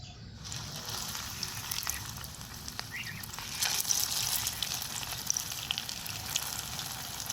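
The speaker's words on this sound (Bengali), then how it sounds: "এবার আমি পাউরুটি মিষ্টিগুলো ভেজে নেব" Bread-based sweets fry in hot white oil, giving a faint, steady bubbling sizzle with soft sputters throughout and no speech.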